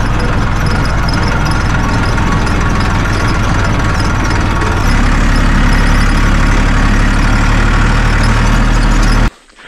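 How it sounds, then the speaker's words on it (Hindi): A tractor engine rumbles loudly and continuously close by as it travels a rough, bumpy rural road, its heavy low drone steady with a slight shift in pitch midway, then cutting off abruptly at the very end. "असली एडवेंचर हमारी हो रही है ट्रैक्टर में, जो कि पूरा शरीर हिला दे रही है।"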